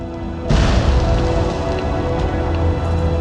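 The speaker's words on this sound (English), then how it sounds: "What was that explosion?" A sudden loud blast in Skyrim bursts in after a brief quiet, then settles into a dense rumbling roar that lingers for several seconds, heard alone without talk.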